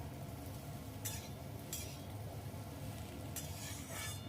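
Spiced potatoes frying in a kadai for ghee alu morich, a steady low sizzle with a few quick scraping stirs of a spatula against the pan, close and fairly quiet.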